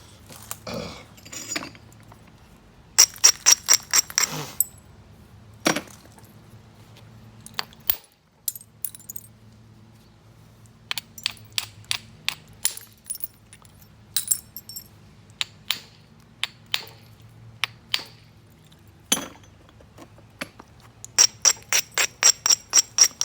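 Flint knapped by direct percussion with a hammerstone: many sharp stony clicks and cracks, sometimes in quick bursts of several strikes, close and crisp against a quiet background.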